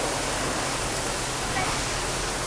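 Rinse water sprays steadily from a self-service car wash wand, a dense continuous hiss that stays constant and close for the whole stretch.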